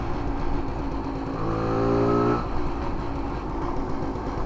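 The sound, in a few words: 1968 Montgomery Ward Riverside motorcycle engine running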